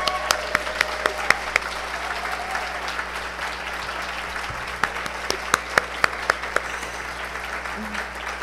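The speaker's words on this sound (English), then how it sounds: "I really want you to give a round of applause to an incredible staff" An audience at a gala dinner applauds staff in a sustained round of clapping, with individual sharp claps standing out near the microphone over a dense, steady wash of hands from the room.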